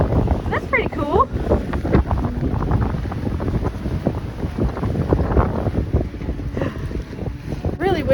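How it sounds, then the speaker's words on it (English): Strong wind blasting across the microphone on the Stanley Park seawall in Vancouver, a loud continuous roar and buffeting with water sounds nearby and someone talking over it. "Really windy"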